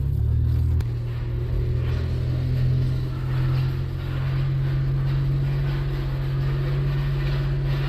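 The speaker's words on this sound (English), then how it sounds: "That water pump does not sound happy." A 1992 Dodge Stealth engine with a failing water pump runs steadily nearby with a deep, constant rumble and a rough low hum, with no talking.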